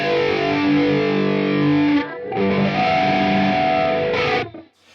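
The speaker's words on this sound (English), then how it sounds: "the same distortion tone, but this time with a flanger that turns on" Heavily distorted electric guitar through a Quad Cortex with a sweeping flanger, played as loud sustained chords that break briefly near the middle and cut off at the end.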